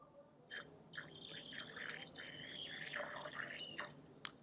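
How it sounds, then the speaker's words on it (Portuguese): Deionized water squeezed from a lab pipette into a vessel during an analytical chemistry demonstration, giving a series of soft, close drips and small splashes over a faint background hiss. "Então eu tenho aqui uma pipeta com água destilada, na verdade água deionizada. Vou colocar um pouco de água."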